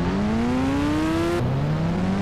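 In the Indian Bike Driving video game, a bike engine with a single silencer revs in a steady, rising drone, briefly drops in pitch as if shifting, then climbs again, loud and close.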